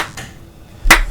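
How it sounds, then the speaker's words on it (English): A single sharp hand clap for audio-video sync near the end, loud and close after a short quiet stretch, preceded by faint soft taps. "I clapped"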